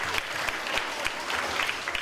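Applause for children in a music education class, with a small group clapping briskly and unevenly at a moderate, fairly close level for about two seconds.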